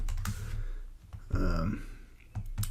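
Typing on a computer keyboard nearby: uneven bursts of crisp key clicks with short pauses in between, fairly quiet, with no talking.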